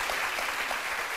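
Studio audience applauding on a live morning talk show, a dense, steady wash of clapping that holds at an even level throughout the brief moment.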